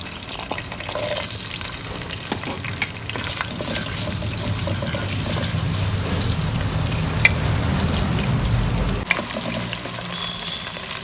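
Onions frying in an oiled pan with whole spices, a loud, dense, steady crackling sizzle close up that grows slightly fuller before easing off near the end, with no talking.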